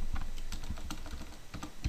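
Steady typing on a computer keyboard while coding a PHP poll system, with rapid, irregular key clicks and a few heavier strikes, close and continuous with no talk.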